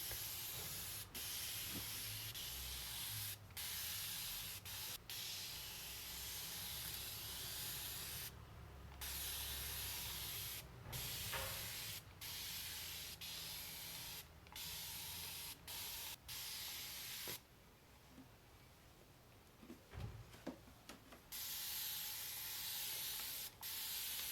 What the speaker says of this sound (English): And I'm just going to spray this all down until my hair is pretty damp.